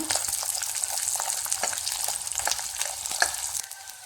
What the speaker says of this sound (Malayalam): ഇനി നമുക്ക് ഇത് ഒന്ന് വഴറ്റിയെടുക്കാം നല്ല ബ്രൗൺ കളർ ആകണ്ട